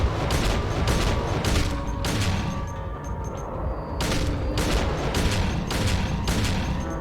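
Pistol shots in a video game crack out in a string of about eight sharp, loud reports at roughly regular intervals, with a rumbling tail after each shot and no talk over them.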